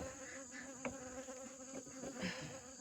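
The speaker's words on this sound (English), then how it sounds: "I've got a pesky bee out here" Bee buzzing outdoors in a garden, a faint, steady drone close by with small shifts in pitch as it moves, over quiet background ambience.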